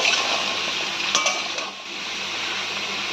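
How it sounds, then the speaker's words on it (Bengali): Jackfruit seeds and chopped vegetables are tossed together in a pan, giving a steady scraping, hissing stir with a few brief clinks of the utensil against the metal. "এবার সব কিছু একসঙ্গে ভালো করে মিশিয়ে নেব।"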